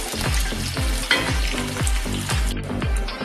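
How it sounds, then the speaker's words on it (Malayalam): Ginger, garlic and onion sauté in a pan with a steady sizzle, punctuated by regular, close scraping strokes of a spoon stirring roughly every half second. "ഇഞ്ചി വെളുത്തുള്ളി വെളുത്തുള്ളി സവോള അതും കൂടി ഇട്ടൊന്ന് വഴത്താം"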